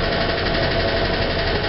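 A Euclid R-75 haul truck's engine runs at a steady, loud idle, a dense rumbling drone with a fine rapid vibration and no break.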